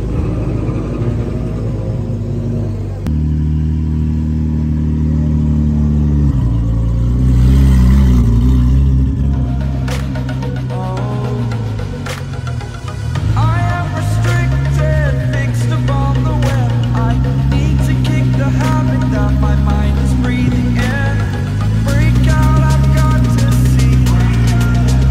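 A Mercedes C63 with its exhaust deleted idles with a deep rumble, then revs repeatedly, its raw loud engine note rising and falling in sustained pulls up close.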